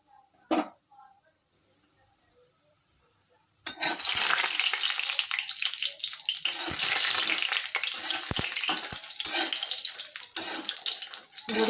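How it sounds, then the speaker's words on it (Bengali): Lentil dumplings (bori) dropped into hot mustard oil: after a few quiet seconds, a loud, steady, crackling sizzle of frying takes over and keeps going, with faint talk in the background. "সর্ষের তেল দিয়ে দিলাম। এটা যে গরম হয়ে এসেছে, তারপর আমি এখানে বিরির ডালের বড়িগুলো ছেড়ে দিলাম।"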